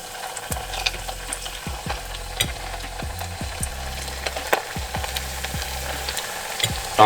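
Homemade nuggets sizzle and crackle in hot oil, a steady close frying hiss with repeated small pops and spits, no voices over it.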